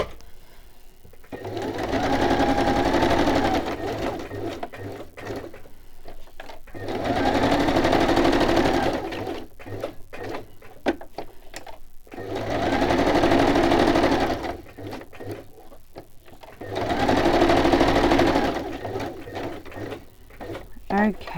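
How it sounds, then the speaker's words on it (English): Sewing machine stitching fabric in four long, steady runs separated by short pauses, close and fairly loud, with faint talk and small mechanical clicks in the gaps. "I'm going to bring my sewing machine in."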